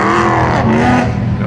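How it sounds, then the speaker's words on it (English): A Ferrari F430 sports car drives past at a cars and coffee meet in Malibu, its engine a loud, close, continuous drone with a rising then falling tone as it passes. "Ferrari F430."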